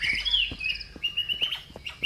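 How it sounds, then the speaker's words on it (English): Birds chirp in the video game Nightmare of the Air Balloon, with high whistling tweets and trills that repeat over soft low thumps and ambience, at moderate loudness. "these birds are annoying as hell"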